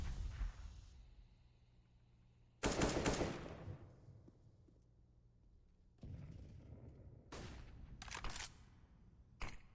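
Counter-Strike match audio from a Mirage esports game: a sharp AWP sniper crack followed by a string of gunfire bursts, loud and abrupt against quieter in-game ambience, with no voices.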